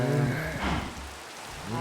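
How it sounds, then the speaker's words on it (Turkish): In the video game Minecraft, rain falls as a steady, dense hiss of drops that fills the short stretch, fairly loud and even, with a low rumble underneath. "yağmurun inmesi lazım"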